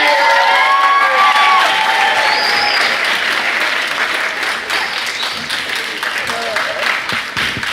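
A crowd at a slam poetry championship event claps and cheers loudly, with whoops and shouts over steady applause that gradually thins out.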